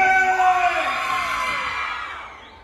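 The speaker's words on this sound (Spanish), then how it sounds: "¡La bulla de los hombres!" Men in a crowd at a patronal fiesta dance in Jicayán de Tovar let out a rowdy collective shout, with whoops and bellows blending together. The cheer starts loud and close, then gradually fades toward the end.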